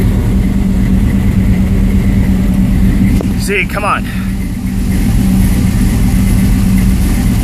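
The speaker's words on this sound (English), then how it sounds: "So I'll just go ahead and start this bad boy right up." A 1984 Chevy C10 pickup with a 350 engine running at a steady, loud idle, a rough low rumble that stays even throughout, with a short burst of speech over it midway.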